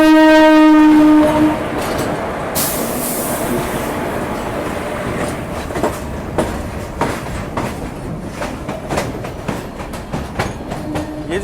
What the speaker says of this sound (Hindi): लोकोमोटिव बड़ा खूबसूरत लग रहा है।